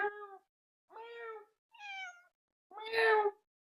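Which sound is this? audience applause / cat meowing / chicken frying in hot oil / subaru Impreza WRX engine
cat meowing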